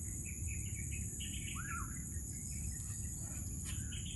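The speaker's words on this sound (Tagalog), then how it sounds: "Maraming ibon dito daw na pagala-gala." Birds calling in a forest, scattered chirps and a short whistled note over a constant high insect drone and low background rumble, fairly faint and distant, no voices.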